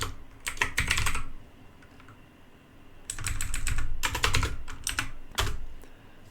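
Typing a mkdir command on a computer keyboard: close, crisp bursts of rapid keystrokes broken by short pauses, with no talk.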